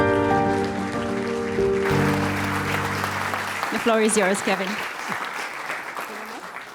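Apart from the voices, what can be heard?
audience applause for a conference speaker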